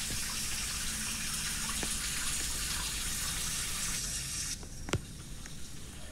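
Running water from a walk-in shower in a Roblox hotel room, a steady close rushing hiss that cuts off abruptly near the end, followed by a brief click.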